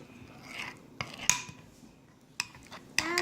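Salad dressing stirred in a kitchen bowl: soft rubbing and swishing punctuated by a few sharp clinks of a utensil against the bowl, quiet and close, irregularly spaced.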